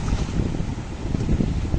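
Strong gusts of 28 to 30 knots, up to 40, rush over a sailboat making 7 knots in a chaotic sea, a dense, steady roar of wind buffeting the microphone with no voices.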